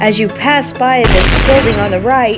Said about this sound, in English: the glass breaks when hit by a bullet